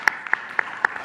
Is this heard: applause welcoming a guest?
yes